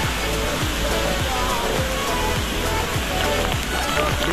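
Heavy roar of the Navlai natural waterfall, heard up close as a steady, loud rush of falling water with no pauses.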